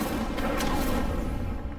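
Incendio fire spell cast in Hogwarts Legacy: a loud, sustained roaring blast of flame that fills the whole moment with dense, continuous noise.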